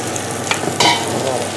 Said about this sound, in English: it's really important that you now stir as hard as you can, really